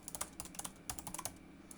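Rapid, quiet clicking of computer keyboard keys during programming work on a tic tac toe game, a steady stream of light taps with no voices.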